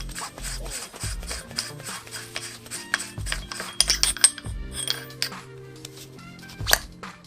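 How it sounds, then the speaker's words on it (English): Metallic scraping, rubbing and clinking as the barrel nut and barrel are unscrewed and pulled from an airsoft Sten MKII, close up, with irregular grinding turns and sharp clinks. "Then you need to remove your barrel nut and barrel."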